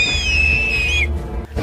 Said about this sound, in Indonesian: terdengar suara tiupan peluit dari atas bukit